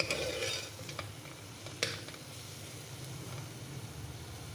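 Spices such as coriander powder and garam masala being mixed into egg pulao in a pan, heard as steady scraping stirs over a low frying sizzle, with a couple of sharper utensil knocks against the pan.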